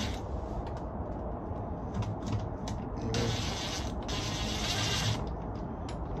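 A 2-inch lag screw is driven down into a plastic holiday blow mold, giving a faint grinding, creaking rub with a couple of brief louder whirring bursts, no talking.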